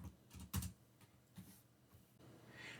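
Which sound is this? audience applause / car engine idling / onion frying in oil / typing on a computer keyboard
typing on a computer keyboard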